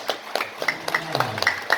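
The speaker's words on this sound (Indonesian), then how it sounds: "Sekali lagi, tepuk tangan pada diri kita untuk memberikan dorongan dan nafas." A small audience at a seminar claps in a steady, patterned rhythm, moderately loud and fairly close, with crisp individual hand strikes and little talking.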